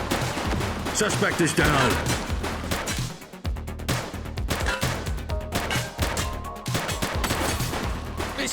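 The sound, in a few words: gunshots in a police video game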